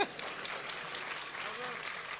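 Audience applause at a Hindi comic poetry recital (kavi sammelan) in Pali, a steady wash of clapping at moderate level with faint voices mixed in, running throughout without pause.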